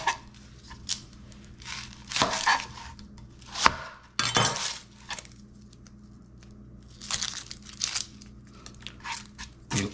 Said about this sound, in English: The first thing you have to do is chop this onion.